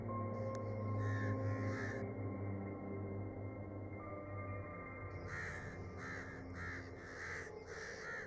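A crow in an African animated story caws in short, harsh bursts, a pair of calls early and a longer run of repeated caws later, heard over a steady droning musical background.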